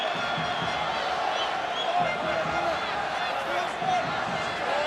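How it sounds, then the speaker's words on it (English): Rugby crowd at a Heineken Cup match between Racing Metro and Harlequins, cheering for Racing Metro as a steady, dense roar of voices throughout, with a commentator talking over it. "the crowd are certainly trying to get behind this Racing team now"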